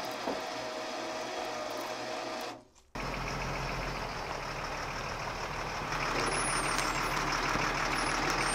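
An army truck reverses beside a Dyna SC-15 firewood processor: a steady engine drone with a repeating mechanical beeping rhythm and a brief cutout partway through, close and continuous, with no talking.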